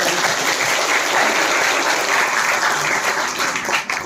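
Steady applause from a crowd, dense and even throughout with no breaks, close and fairly loud.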